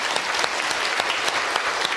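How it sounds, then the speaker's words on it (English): A live audience at a science talk on food and taste gives a volunteer a dense, steady round of applause, with no speech over it. "Round of applause"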